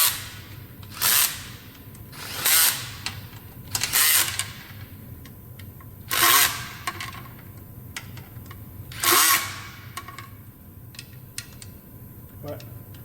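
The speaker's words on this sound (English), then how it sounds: "Now this screw gun is set on like a medium strength" Screw gun set to medium strength driving screws, several short whirring bursts of about a second each, spaced a couple of seconds apart, close up over a low steady background hum.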